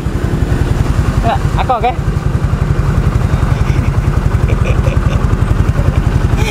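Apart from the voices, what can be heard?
Yamaha Mio GT scooter engine running after repair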